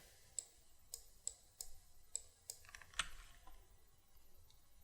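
A computer mouse clicks a handful of times in a quiet room while the Alt key is held, sharp isolated ticks spaced roughly half a second apart.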